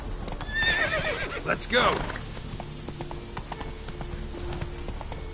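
Roach the horse galloping in The Witcher 3, rapid hoofbeats with a sharp whinny early on, close and steady beneath a voice speaking.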